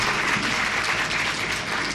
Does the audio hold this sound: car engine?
no